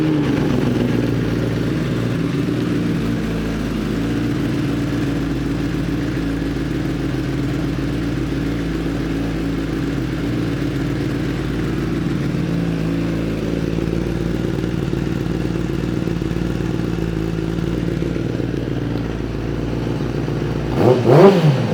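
A 2016 Kawasaki ZX-10R Ninja sport bike engine idles steadily and close by, a continuous low rumble with no talk, ending in a brief louder burst of clatter.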